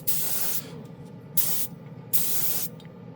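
A cheap Harbor Freight spray gun sprays paint in three hissing bursts, each about half a second long, separated by short quiet gaps, close and fairly loud.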